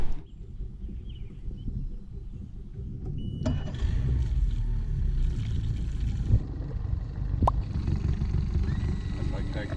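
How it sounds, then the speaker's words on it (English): A boat's outboard motor rumbles steadily, loud and close, its drone rising partway through and continuing without pause. "All right, Cody, we're gonna take your boat out."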